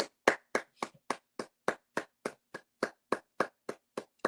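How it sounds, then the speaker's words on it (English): A single pair of hands claps about fifteen times in a steady, even rhythm. The claps are close and fairly soft, with silence between them. "Guys, can we give a round of applause for Kamani?"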